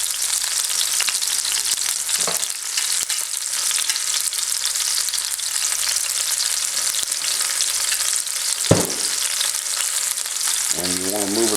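A pork loin searing in a hot pot gives a loud, steady hiss of frying fat that carries on throughout, broken by a few brief knocks and scrapes as the meat is shifted.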